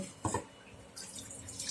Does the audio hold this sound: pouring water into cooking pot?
yes